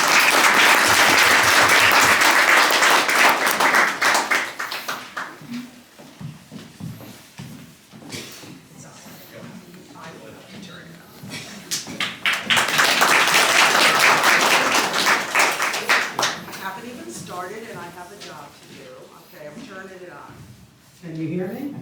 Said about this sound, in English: cheer super loud for these wonderful performers